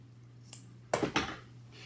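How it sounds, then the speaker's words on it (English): A corner of craft bag material snipped with scissors: a faint click, then two quick close cutting crunches in a quiet room. "let me go ahead and cut a little bit of a corner here"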